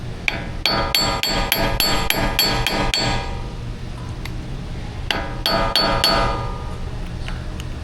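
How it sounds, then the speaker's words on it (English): Rapid series of sharp metallic small-hammer taps on a Toyota Tacoma, a quick burst of about ten strikes, a pause, then another shorter run of blows nearby. "screwdriver and then the small hammer"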